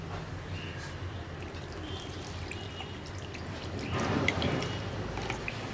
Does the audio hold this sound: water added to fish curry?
yes